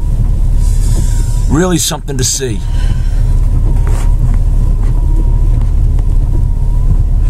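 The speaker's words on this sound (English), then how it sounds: "you're now watching your third wave and, you know, less than a minute and a half coming right up and over that" Storm waves at Mann Hill Beach in Scituate wash up and over a low beach dune in a steady, loud roaring rush, with a voice briefly speaking over the noise.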